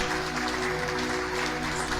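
Steady, dense applause from a large church congregation fills the space, continuous and even throughout with a faint tonal hum underneath.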